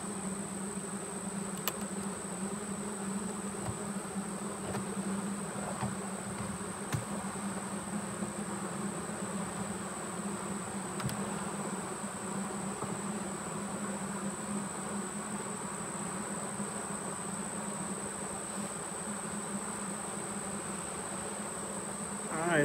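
Bees buzz steadily around an open hive during a colony inspection on a farm, a constant close droning hum with a few faint clicks and knocks, no talking.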